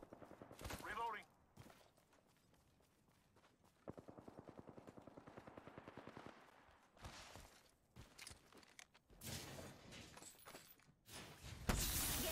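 Gunfire in the video game Apex Legends comes in scattered bursts, including a rapid stuttering volley in the middle, mixed with other in-game noises and some talk, all fairly quiet.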